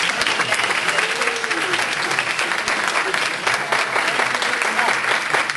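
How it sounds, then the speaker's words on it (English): Sustained audience applause at the close of a small business expo workshop, a dense, even roar of many hands clapping that holds steady throughout, with faint voices beneath. "A round of applause"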